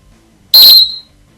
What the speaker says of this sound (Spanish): Pero el silbato es la que para el juego.